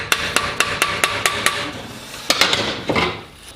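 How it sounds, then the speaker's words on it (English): Someone strikes with a hammer in a steady series of sharp, close knocks, then pauses and lands a few more blows over low background noise. "or the bloke hitting the hammer."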